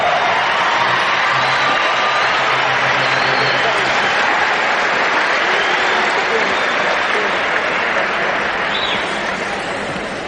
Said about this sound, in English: Let's have a round of applause for the Western Conference All-Star.